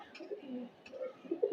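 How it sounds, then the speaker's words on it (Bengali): A pair of khaki pigeons coo softly at close range in a home loft, giving repeated low throaty calls with a brief pause in the middle and no speech. "এই দেখেন এক জোড়া খাকি কবুতর, কবুতর দুটা সুন্দর আছে, জোড়া কবুতর কিন্তু।"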